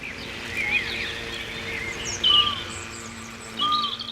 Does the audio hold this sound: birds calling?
yes